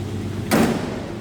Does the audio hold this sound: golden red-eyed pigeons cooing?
no